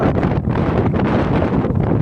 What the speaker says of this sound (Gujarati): પવન એટલો આવી ગયો હે ને